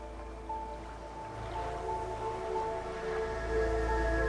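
Ocean surf washes steadily at a low level beneath sustained tonal music on a coastline in the video game Divinity Original Sin 2, without distinct individual wave crashes.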